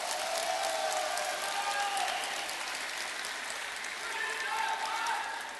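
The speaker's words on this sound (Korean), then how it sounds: "여러분 따뜻한 박수를 한번 보내주시기 바랍니다" Applause from an audience at a Korean Democratic Party presidential candidate's book launch event in Cheongju, a steady wash of clapping that holds for several seconds and fades slightly at the end, with a voice rising faintly over it.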